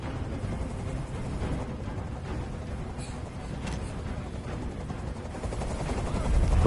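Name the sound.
helicopter hovering in Detroit Become Human video game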